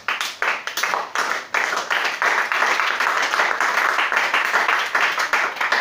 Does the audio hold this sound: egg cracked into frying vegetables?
no